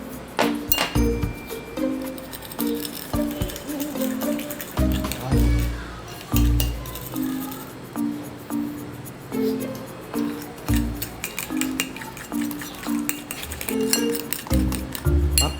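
A spoon clinks repeatedly against a glass while Milo drink is stirred, a quick, steady series of bright taps and rattles over a low hum, with occasional voices talking nearby.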